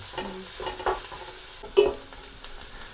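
Onions sautéing in a pan for mutton curry, with a brief sizzle and a few sharp spoon scrapes and knocks against the pan, close and fairly loud, with no talking.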